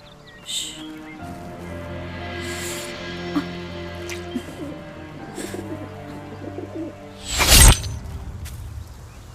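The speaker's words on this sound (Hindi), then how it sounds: "उसके रस से इस घायल पंछी का उपचार हो सकता है।" An injured bird gives soft pigeon-like cooing, several gentle calls spread across a quiet scene, with faint rustling and a brief louder swish near the end.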